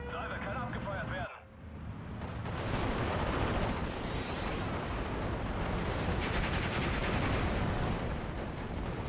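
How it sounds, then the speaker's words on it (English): Artillery salvo explosions in the WWII strategy game Steel Division: Normandy 44, a loud continuous rumbling barrage of blasts after a brief tonal sound, with voices in the game speaking over it. "Aufgepasst bei der Explosion. Salve kann abgefeuert werden."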